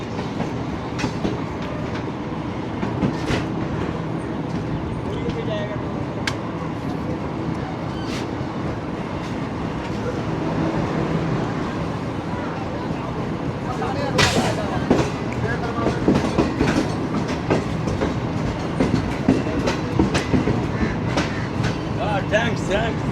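Pak Business Express train rolling along the rails between Nawabshah and Hyderabad Junction, a steady rumble with rhythmic clickety-clack and rattles, heard from inside the carriage as someone talks over it.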